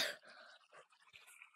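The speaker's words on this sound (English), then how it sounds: "sorry, we got a little cough." A single soft cough, quiet and brief, followed by faint rustling.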